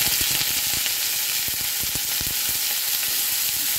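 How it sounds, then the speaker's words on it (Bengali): Mixed vegetables hit hot oil in a wok, giving a loud, steady sizzle that fills the clip, with sharp crackles and spits popping through it and no voices. "দেখো কড়াইতে তেল গরম করতে বসিয়ে দিয়েছিলাম, গরম হয়ে গেছে। এখন সবগুলো সবজি একসাথে দিয়ে দেব।"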